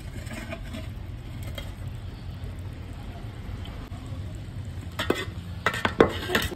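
Potatoes frying in a pan for egg dum biryani, a steady low sizzle running throughout, with a few sharper utensil scrapes and clinks near the end.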